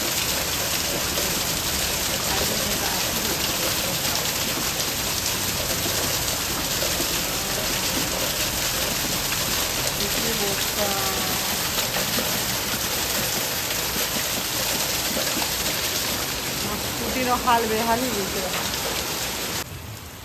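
Heavy monsoon-style rain pours down in Bhawanipatna as a dense, constant roar of water hitting surfaces. Someone speaks over the downpour now and then.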